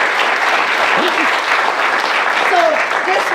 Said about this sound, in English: So a big round of applause for Dennis, who's our leader here.